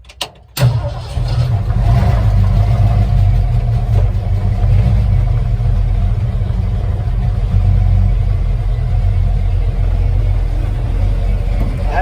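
A carbureted pickup truck engine cold-starts after a quick crank, catching at once and settling into a loud, steady, rumbling idle close by that holds for several seconds.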